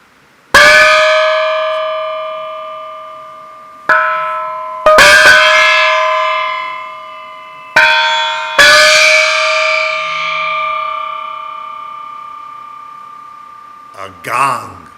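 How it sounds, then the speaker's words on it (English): A gong is struck several times in a children's holiday service, each stroke a loud metallic clang with a long ringing decay, the hits spaced unevenly with a final softer clatter at the end. "A gong."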